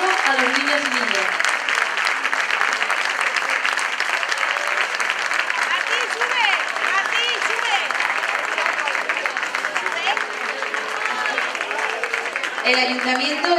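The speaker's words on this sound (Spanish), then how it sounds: "Un aplauso a los niños y niñas." Long, loud applause for children at a Christmas children's festival at a play center in Cadreita, many hands clapping steadily and densely for over ten seconds, with children's and adults' voices calling out through it.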